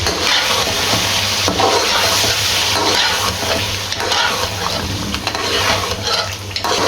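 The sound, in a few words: stir-frying chicken pulao with yogurt in a pot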